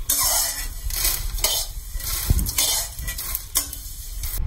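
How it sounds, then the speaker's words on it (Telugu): Dry coriander seeds and cumin are being roasted in a pan for pudina chilli powder, and a spatula stirs them. Loud, close scraping and rattling strokes come in a few bursts over a continuous dry sizzle. "ఈ పొడి ధనియాలు జీలకర్ర కూడా వేగిపోయిందండి"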